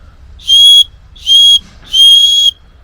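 A survival whistle, used as a bracelet or belt-buckle attachment, blown in three sharp, shrill blasts of about a quarter second each, loud and close with short gaps between.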